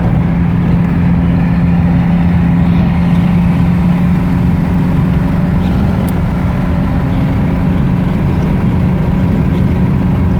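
A 1934 Chevy all-steel touring car rolls down the road, its engine and road rumble a steady, loud drone from inside the cabin with no pauses.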